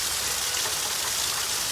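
Heavy rain pours steadily during a thunderstorm, a dense, even hiss of drops close by with no pauses, no thunder and no voices.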